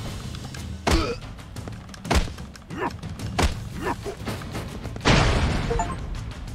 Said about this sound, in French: tu l'as terroriste en lui envoyant une grenade